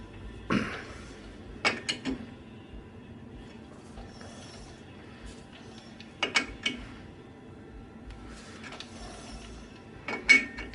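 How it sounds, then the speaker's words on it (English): A machinist's vise is snugged up on a thin router plate, giving a few sharp metallic clicks and clunks spaced apart over a faint, quiet background hum. "I'm going to snug up the jaws."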